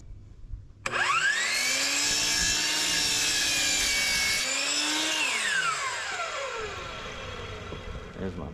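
A power saw spins up and cuts through a wood spacer, a loud whining motor with the blade biting into the wood, then the pitch sweeps down as the saw winds down.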